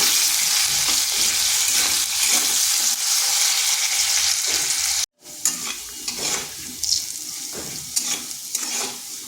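Lightly salted potatoes frying in a pan for a vegetarian pui shak dish, a strong steady sizzle with rhythmic stirring scrapes, a brief break partway through, then gentler crackling and stirring, no voices.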